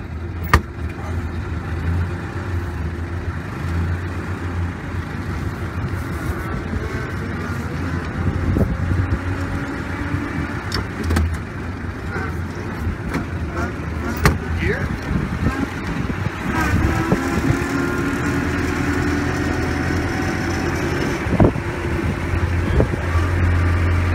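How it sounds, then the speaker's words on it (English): A 1928 Lincoln touring car engine fires up and settles into a steady low running rumble, with occasional knocks and clicks over the idle. "The car starts up very nicely."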